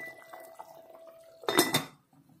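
Smoked pork being stirred in a metal cooking pot, a soft faint simmer followed by a short burst of loud scraping and clanking from the spoon against the pot.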